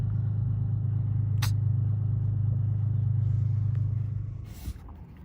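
A junk vehicle just dropped off by a tow truck runs loudly nearby in strong wind, a steady heavy low engine rumble that fades and cuts out near the end with a brief clunk.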